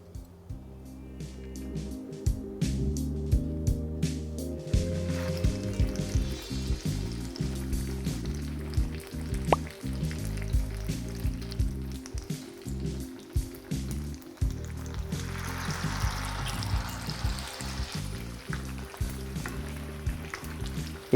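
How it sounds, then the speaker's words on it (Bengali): A flour and potato snack, dipped in slurry, fries in hot oil with a steady, soft sizzle that swells in places, running continuously under a prominent tonal background layer. "আর এইভাবে এবার ডিপ করে নিয়ে আমি দিয়ে দেবো ফ্রাই করার জন্য অয়েলের মধ্যে।"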